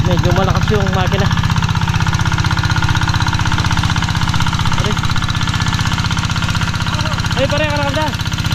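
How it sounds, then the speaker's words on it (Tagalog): A loud boat engine drones steadily throughout, heavy low rumble with rapid knocking, while a voice speaks briefly at the start and near the end. "Medyo malakas yung makina."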